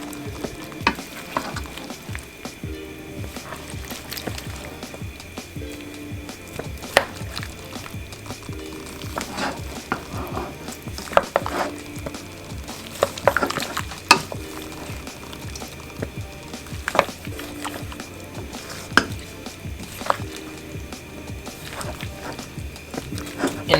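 Chicken and broccoli being stirred through sauce in a pan, with steady sizzling and frying under scattered scraping and clinking of a utensil against the pan, close and continuous with no talk.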